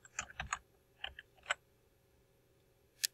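Several close, quiet clicks of computer keyboard keys in short irregular bursts as a drug name is typed into a coding search field, followed by a pause and one final sharp keystroke, with no talking.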